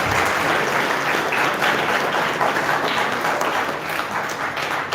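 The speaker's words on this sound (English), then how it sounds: "huge round of applause to our" Audience at a higher secondary school commerce faculty toppers' felicitation giving a dense, steady round of applause that stays loud and even throughout, with no talk over it.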